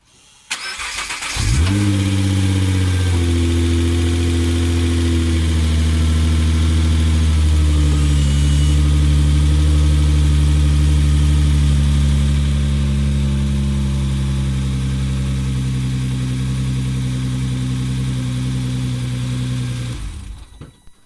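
A 2010 Nissan GT-R R35 engine starts with a sharp crank and settles into a loud, steady idle close by, running evenly for about twenty seconds before cutting off; any headlamp washer motor whirring is buried under the engine.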